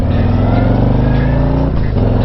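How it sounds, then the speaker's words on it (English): A 2021 Harley-Davidson Electra Glide Revival styled after the 1969 model rumbles steadily and loudly on the road, its deep engine drone holding nearly constant with a brief dip in pitch near the end, as if easing off the throttle. "I'm riding this Revival 1969 styled Harley"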